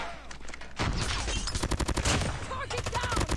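Holger 26 gun in Call of Duty Mobile tap-firing in a fast rhythmic series of loud, sharp gunshots, with brief pauses between bursts and game effects behind.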